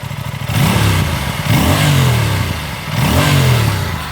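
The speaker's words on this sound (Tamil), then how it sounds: "இதுதான் எக்ஸாஸ்ட் நோட்டு" An Aprilia RS457 motorcycle engine revs hard three times, the exhaust note rising and falling in deep, throaty surges with a steady idle burble between them.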